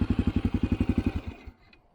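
An enduro dirt bike engine, a Kovi JNR 250, pulses at a fast steady throb at close range, then cuts off abruptly, leaving a brief faint clatter.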